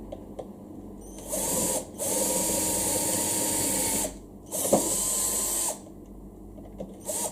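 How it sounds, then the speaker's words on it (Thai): An electric drill bores a hole through a workpiece in three bursts of whining, grinding noise, a brief one, then a long steady run and a shorter final one, with pauses in between. "โดยที่เราต้องเจาะรูนี้ให้"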